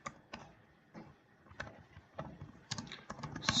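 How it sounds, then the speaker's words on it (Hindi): Rapid clicking of a computer keyboard as a C program is typed, light uneven keystrokes close by and fairly quiet, with no talking. "तो वही करते हैं, प्रिंट एफ।"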